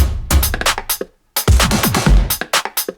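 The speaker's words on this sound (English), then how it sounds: "Next, I added drums," Punchy electronic drum hits in a tight, busy pattern, with a short gap mid-phrase before the beat resumes; loud and close, no voices.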